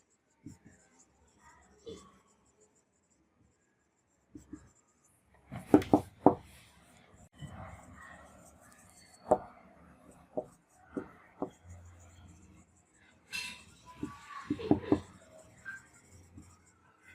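Hand-writing of a definition in a Class 9 science lesson on sound, heard as faint, scattered scratchy pen or chalk strokes in short bursts, with quiet pauses between them.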